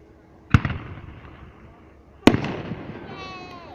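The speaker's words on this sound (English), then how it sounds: "Lovely, lovely fireworks." Canada Day fireworks bursting: two sharp, loud booms about two seconds apart, each trailing off into crackle and rumble, with faint voices in the background.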